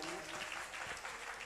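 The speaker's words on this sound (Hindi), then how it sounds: "बजाओ एक बार ताली" Worshippers at a Jain temple consecration festival break into applause, a thick, continuous clatter of many hands that is fairly faint and distant and lasts a second and a half.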